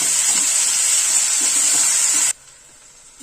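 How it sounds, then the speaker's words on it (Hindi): Chopped tomatoes and cashews fry in a kadhai with a loud, hissing sizzle close by. It cuts off abruptly near the end, leaving near quiet. "और अब मैं इसमें ऐड कर रही हूँ 2 मीडियम टमाटर कटे हुए हैं। थोड़ा सा मैं टमाटर को पकाऊंगी।"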